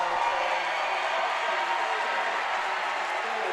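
At a boys high school basketball game, the home crowd sends up a steady, even roar of cheering that fills the gym without breaks.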